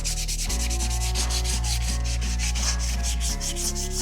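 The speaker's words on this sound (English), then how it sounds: "Now we'll just get a piece of sandpaper and clean out those edges." Sandpaper rubbing the edges of a wooden catch-alive squirrel trap, a loud, steady, close scraping with even back-and-forth strokes throughout, alone without talk.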